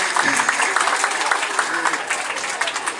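Schoolchildren and guests applaud at an event with the Semarang city council chairman, a dense, steady patter of many hands clapping close by, with voices mixed in throughout.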